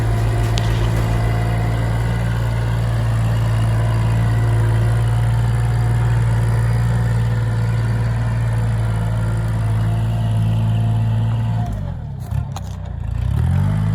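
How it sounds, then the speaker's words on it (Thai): A Kubota L3608 tractor runs during a test drive, a loud steady diesel idle with a deep low throb and faint clatter, holding constant before a brief dip and recovery near the end. "ตอนนี้ช่างก็กำลัง ทดลองรถ L 3 6 0 8ให้ดูนะคะ ทดลองการขับเคลื่อนการทำงาน"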